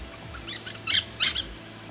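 Wild birds in the Amazon forest along the Purus River give a few faint, brief chirps and calls, clustered around a couple of moments against a quiet, steady background.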